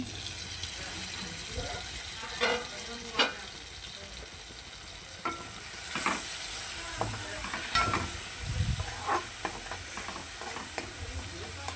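Vegetables simmer with tamarind in a covered pan, giving a steady close sizzle and hiss with scattered soft clinks and stirring scrapes throughout.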